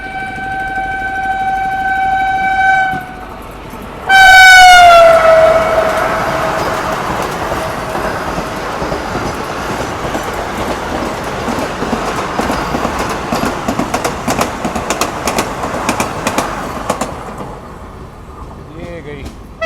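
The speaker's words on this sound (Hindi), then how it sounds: "एकदम गजब की हॉकिंग और रफ्तार के साथ वंदे भारत एक्सप्रेस यहाँ पे आते हुए" A Vande Bharat Express sounds a loud, sustained horn while rushing past at speed near Dholpur, followed by a long roar of rushing wheels and rail noise that gradually fades, with talk over it.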